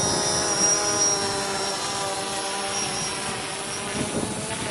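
Steady buzzing whine of a small remote-controlled helicopter's motor and rotor, continuous and fairly close, with a high tonal line above a broad hum.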